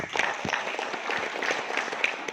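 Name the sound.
audience applause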